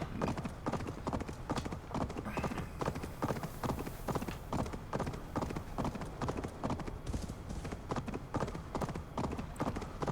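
Hooves clop rapidly and steadily as a horse is ridden in the video game Assassin's Creed Valhalla, a continuous galloping rhythm heard up close over faint ambient game background.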